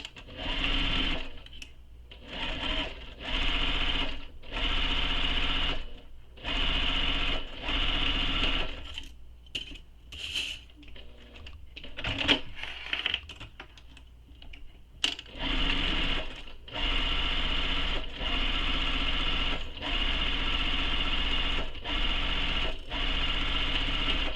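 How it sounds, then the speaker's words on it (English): Sewing machine stitching the side and bottom seams of a fabric bag, running in steady bursts of several seconds each with short pauses between, loud and close, with no talk. "Now I'm going to sew the sides and bottom edges using the seam allowance given in the pattern."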